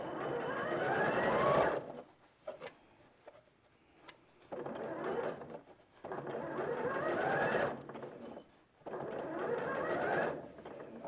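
A sewing machine stitches a curved quilt block seam in short bursts, its quick steady whir starting and stopping four times with quiet pauses between, close and moderately soft.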